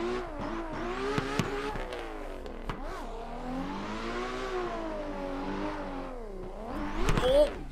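A Kevin Lawrence Injuku Racing S14 drifts in Assetto Corsa, its engine holding a steady rev that rises and falls through the slides, with brief clatters and a louder surge near the end.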